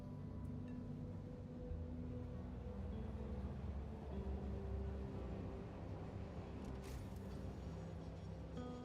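Rumbling train pulls away in the factory-building game Satisfactory, a steady low mechanical drone with tonal hum layers and a short bright metallic burst near the end.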